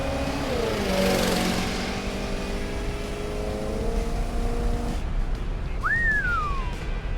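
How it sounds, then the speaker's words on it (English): A '76 Cadillac hearse engine with a Quadrajet carburetor revs hard and close, its intake squalling in a rising and falling roar that cuts off abruptly, followed by a short sliding whistle. "Man, that quadrijet's squalling"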